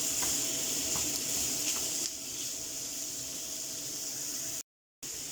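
Minced meat browning in a pan on a hob turned two-thirds of the way up, a steady hiss of sizzling with faint stirring scrapes and a brief cutout near the end.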